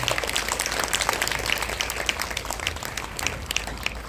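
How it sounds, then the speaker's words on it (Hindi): Loud, dense applause fills a Brahma Kumaris Mahashivratri spiritual gathering in Delhi, a continuous crowd clapping close to the microphone with a low rumble underneath and no speech on top. "कृपया जोरदार तालियां बजाइए"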